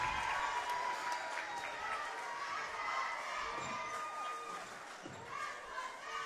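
Crowd cheering and applauding at a high school basketball game between Summersville and Alton after a player's 1,000th career point, a steady dense roar of voices filling the gym throughout with scattered shouts.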